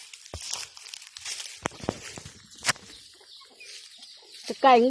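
Chickens clucking in a homely rural setting: scattered short clucks and sharp scratching or rustling noises, fairly faint, ending with a louder, wavering squawk up close.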